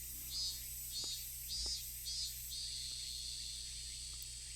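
Cicadas crying as ambient sound in the visual novel game Higurashi, a faint rhythmic pulsing chirr repeating in short bursts over a low hum, with a few soft clicks.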